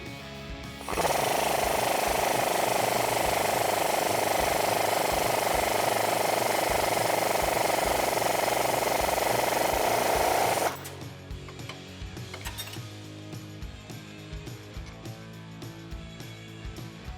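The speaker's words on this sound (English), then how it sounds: "you're actually going to come in with a 9mm socket and you're going to spin the stud" A socket tool, likely a powered one, spins a stud to loosen the top nut on a 2002-2018 RAM 1500 2WD front suspension during a leveling kit install. It gives one loud, steady, close-up whirring burst of about ten seconds, then stops abruptly, leaving a quiet background.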